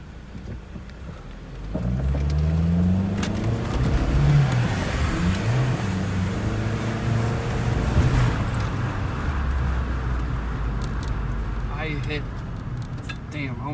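A car pulls hard at full throttle around a residential block with boost issues; engine drone rises from about two seconds and holds steady up close, with harmonic sweeps as revs climb, then eases, while a person talks intermittently.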